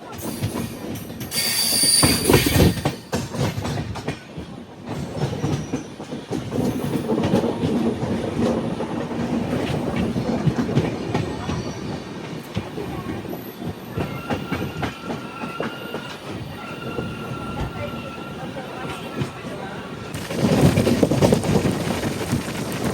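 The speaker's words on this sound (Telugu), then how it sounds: "ఊపొచ్చింది, ఊపేస్తున్నారు బండిని" Charlapalli to Kakinada Town special express 07448 runs near Nalgonda, rocking as it goes, with a steady rumble, rhythmic clickety-clack of wheels and occasional squeals, continuous throughout without speech.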